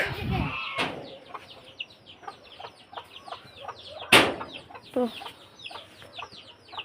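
Hens brooding on a clutch of eggs give a series of close, irregular clucks and short throaty calls, plus one sharp louder cry and a brief wing flutter, with a single spoken word at the start.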